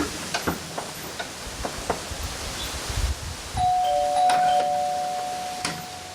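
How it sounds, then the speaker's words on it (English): A doorbell chimes once partway through, its ring lingering and slowly fading over a quiet background of soft rustles and small clicks. "I'll get that doorbell."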